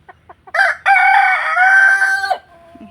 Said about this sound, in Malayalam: അവനൊരു കൂവല്